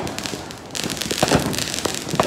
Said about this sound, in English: What a good day of fireworks.